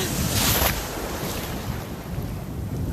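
Ocean waves break on a shore where kite surfers ride, a steady wash of surf mixed with gusty wind buffeting the microphone, one louder surge near the start.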